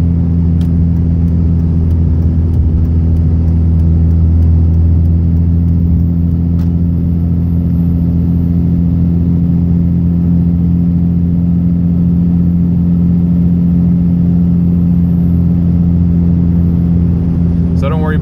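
Third-generation 5.9 Cummins diesel pickup towing a load uphill on a mountain pass, a steady loud low engine drone and rumble that holds throughout with a constant heavy pull.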